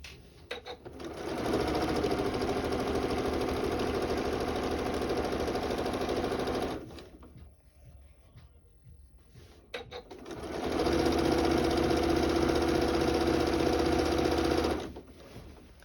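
Sewing machine stitching quilt binding, a steady rapid mechanical whir in two long runs separated by a brief pause, close and fairly loud.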